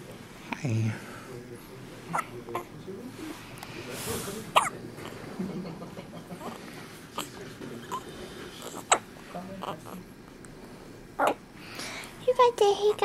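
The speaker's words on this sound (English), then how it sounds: "You got the hiccups?" A baby hiccups, giving soft short bursts at irregular intervals that sit in a quiet room while adults talk nearby.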